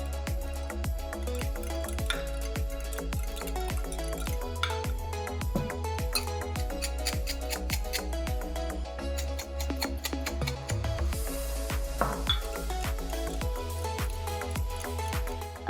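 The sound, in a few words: whisking eggs with black pepper in a bowl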